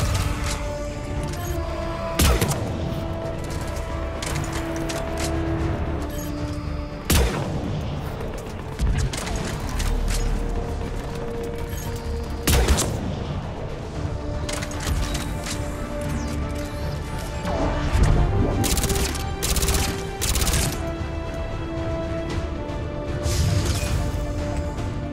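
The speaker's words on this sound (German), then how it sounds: "das ist so eine automatische Maschinenpistole" An automatic machine pistol in Mass Effect 3 fires steadily through a long stretch of game combat, with repeated sharp cracks and heavier impacts over a constant mechanical din.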